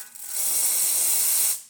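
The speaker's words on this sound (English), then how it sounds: "Nice strong steam." Strong, steady steam hiss from the steam wand of a Lelit Bianca espresso machine after a full tune-up, rising quickly, holding loud and even for over a second, then cutting off cleanly.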